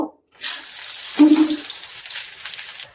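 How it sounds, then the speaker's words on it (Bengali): Chopped onion dropped into hot cooking oil in a home kitchen, a loud sudden hiss and sizzle that starts abruptly and carries on steadily until it cuts off near the end. "এখন কেটে রাখা পেঁয়াজটা দিয়ে দিব"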